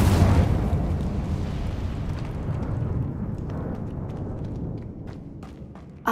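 An Incendio fire spell in Hogwarts Legacy goes off as a booming burst of flame. A heavy rumble swells at the start and then slowly fades over several seconds, with faint crackles near the end.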